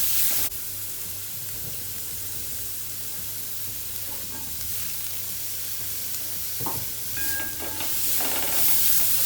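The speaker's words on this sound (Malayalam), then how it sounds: "നമ്മൾ അരിഞ്ഞു വെച്ച പച്ചമുളകില്ലേ അതും കൂടെ ഇട്ട് കൊടുക്കാം" Chopped green chilies hit hot oil in a pan for palak chicken curry, setting off a bright hissing sizzle that holds steady throughout and swells with stirring near the end.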